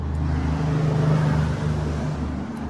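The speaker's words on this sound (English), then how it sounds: "Logging truck, hang on." A heavy logging truck, roughly a 50,000-pound load, passes by as a steady low rumble of engine and tires that swells slightly and fades over a few seconds, with no talking.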